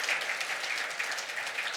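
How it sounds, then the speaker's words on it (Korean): Korean church congregation clapping at a Sunday worship service, a steady, even wash of many hands applauding throughout, fairly close and without speech. "이건 박수 한번 칠까요?"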